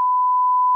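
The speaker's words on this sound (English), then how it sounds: "Is that just beeped? Beeped? They've got the censor in us now." A single steady electronic censor beep, loud and pure-toned, lasts under a second over a swear word in a broadcast comedy episode.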